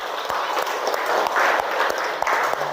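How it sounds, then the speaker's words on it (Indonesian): A group of people, teachers at an academic supervision training session, clap their hands together in a short, close, steady burst with a few sharp individual claps standing out. "Tepuk tangan dulu."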